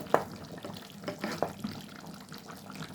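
Meat chop curry is stirred in a pot, giving faint, irregular scraping and wet sloshing strokes with a few sharper clinks, quiet and close with no talk.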